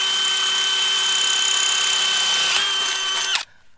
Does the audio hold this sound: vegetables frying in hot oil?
no